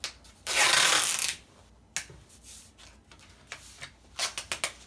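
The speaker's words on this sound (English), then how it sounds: "I'll take some of the clear packaging tape." Clear packaging tape ripping off the roll in one loud, sustained pull, followed by scattered crackles and short sharp tugs as it is pressed onto a package near the microphone.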